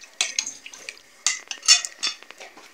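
Buttermilk and eggs being mixed in a bowl, heard as quick clinks of a utensil against the bowl with wet sloshing, irregular bursts of fairly close, moderate-volume clatter and no talk.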